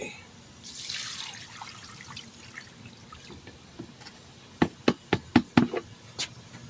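Charcoal-blackened water poured from a gallon jug onto plant soil, a soft splashing pour followed by a run of sharp, closely spaced gurgling glugs and drips, fairly close and without talk.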